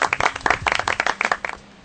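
An audience in a radio studio setting claps briefly: a short burst of close, uneven hand claps lasting under two seconds, loud and fading at the end.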